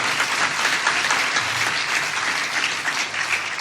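Sustained audience applause at a cultural festival stage event, a dense, even wash of many hands clapping throughout, loud and steady with no speech.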